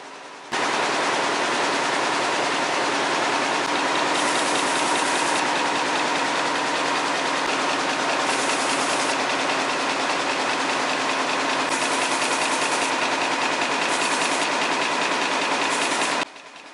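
A loud, steady clatter from an air jet loom runs without pause, a dense rapid mechanical rattling, constant throughout before stopping abruptly at the end.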